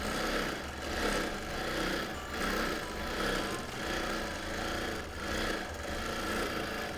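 A long arm quilting machine stitches freehand over bulky seams on a linen blend quilt, giving a steady, rhythmic mechanical whir with regular pulses, moderately quiet and with no talk.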